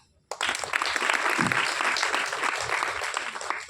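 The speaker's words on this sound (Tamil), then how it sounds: "கைத்தட்டுங்க" After a brief hush, an auditorium audience at actor Dhamu's speech erupts at once into loud, full applause that carries on steadily to the end.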